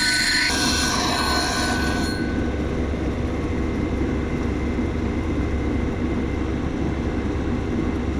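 Lapidary machine grinding a rock slab, a loud continuous rough grinding roar with a high squealing edge at the start, close and steady throughout with no voices.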